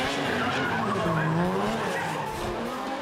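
Drift car tyres skid and squeal at Baypark Stadium in Tauranga, a loud sustained screech layered over a rising engine note, heard continuously at close range.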